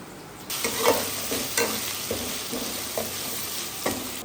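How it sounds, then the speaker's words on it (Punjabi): Ginger and garlic frying with browned onions in a pan, a steady sizzle with a handful of sharp stirring scrapes and knocks close by, and no voices. "ਇਹਦੇ ਵਿੱਚ ਅਦਰਕ ਲਸਣ ਪਾਵਾਂਗੀ ਤੇ ਇਹਨਾਂ ਨੂੰ ਵੀ ਥੋੜਾ ਜਿਹਾ ਨਾ ਬਰਾਊਨ ਕਰਾਂਗੀ।"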